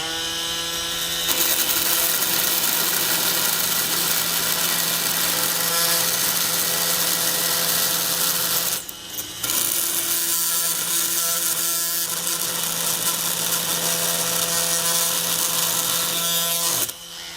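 Makita or Fein oscillating multi-tool cutting at its lowest speed setting, a continuous loud buzzing whine with steady tonal hum, briefly dropping around the midpoint before resuming and then stopping.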